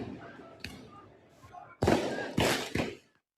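Fireworks set off during street unrest in Paris pop and crack in several sharp bursts, the loudest three coming close together near the end over a low background rumble.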